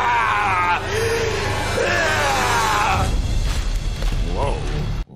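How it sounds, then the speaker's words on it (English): Loud, strained screaming and yelling from the opening of the movie Iron Man 2, a sustained anguished wail that breaks into rough groaning and cries amid a dense, noisy soundtrack. "Them screams right there were terrifying."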